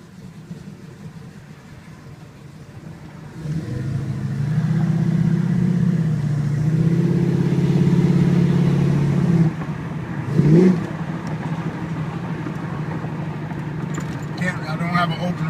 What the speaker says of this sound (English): Just want to give you a little bit of representation of how this vehicle drives and moves.